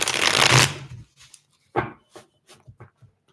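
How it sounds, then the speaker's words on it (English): A long riffling burst of tarot cards being shuffled, followed by scattered softer taps and flicks as the cards are handled and squared up. "I could shuffle forever, so I better stop."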